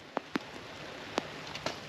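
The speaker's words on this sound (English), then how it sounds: "it's tough to work in the rain" Rain falls outdoors at a trailer build site as a soft steady hiss, with a few sharp, distinct drops or taps landing close by at irregular intervals and no talking.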